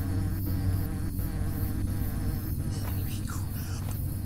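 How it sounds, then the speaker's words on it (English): A swarm of bees in the video game Hungry Lamu drones constantly, a close, steady insect hum with faint ticks and rustles layered over it. "Why are there so many darn bees?"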